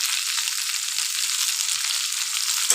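Jackfruit seed curry sizzles in a pan, a steady bright frying hiss close by and unbroken throughout, with no talk.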